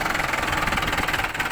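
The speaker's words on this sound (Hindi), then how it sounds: "खनन माफियाओं के द्वारा जेसीबी लगाकर ट्रैक्टर के साथ अवैध बालू कटाई कर" A JCB and tractor engine running steadily during illegal sand cutting, a loud close diesel drone with a rhythmic knocking pulse and no voices.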